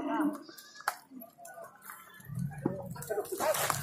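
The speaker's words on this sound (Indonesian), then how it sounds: "Lautan domba ini. Lautan domba." Sheep bleat repeatedly at a busy morning livestock market, several calls overlapping against crowd noise and nearby voices that talk over much of the scene.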